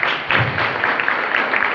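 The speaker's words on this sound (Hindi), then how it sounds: "मैं चाहूँगा प्रिंसिपल सर के लिए जोरदार ताली हो जाए" Audience applause at a school event, a short steady burst of clapping from a gathered crowd filling the whole moment, moderately loud with no talk over it.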